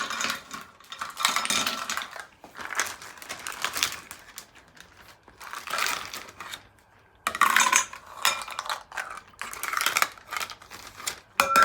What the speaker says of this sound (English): put your little bag into your big bag and then cover the top with ice